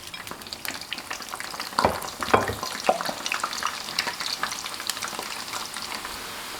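Pork slices re-fried in hot oil over medium heat, a continuous crackling sizzle with sharp pops and stirring clatters, close and fairly loud, with no talking.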